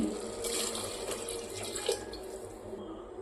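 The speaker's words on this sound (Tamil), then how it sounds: "இப்போ நம்ம வந்து தண்ணி ஆட் பண்ணிக்கலாம்." Water is poured into a cooking pot for chicken biryani made with siragasamba rice: a continuous, fairly soft splashing stream that runs for a few seconds without talk.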